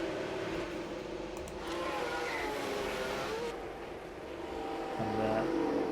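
F1 cars head out on track in F1 Manager 23 at the Singapore circuit, a steady engine drone that swells and fades slightly under a faint voice.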